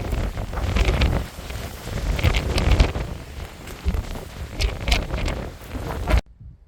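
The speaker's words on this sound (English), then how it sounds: "it's hard to understand how windy it is" Strong wind outdoors in Alaska buffets the microphone in loud, rumbling gusts that roar continuously, then cut off abruptly near the end.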